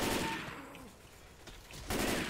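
Bursts of gunfire in the Left 4 Dead 2 zombie shooter, rapid shots clustered at the start and again at the end with a quieter gap between, fairly close and moderately loud.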